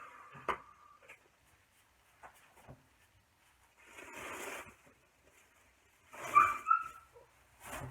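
A puppy wanting out whimpers and gives a few yips and short barks, faint and intermittent with long quiet gaps, plus a louder pair of yelps near the end.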